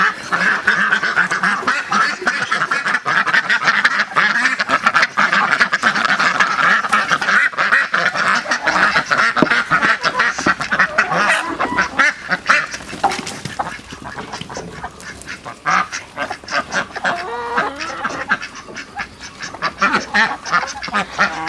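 A flock of ducks kept in an enclosure quacks loudly and continuously, many calls overlapping, with the clamor thinning somewhat toward the end.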